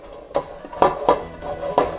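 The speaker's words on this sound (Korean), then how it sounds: "냄비에다가 버섯을 먼저 볶으실 거예요" Mushrooms being stir-fried in sesame oil in a pot give sharp, irregular scraping and clinking strokes of a utensil against the metal over a soft sizzle, close and fairly loud.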